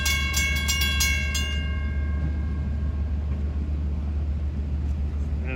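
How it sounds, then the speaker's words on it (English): Ronkonkoma-to-New York commuter train rolling over the Willis Avenue level crossing in Mineola, a steady low rumble of wheels with a few sharp rhythmic clicks at the start, fading slightly, no talk. "There is train 2303 from Ronkonkoma to New York going over the Willis Avenue crossing."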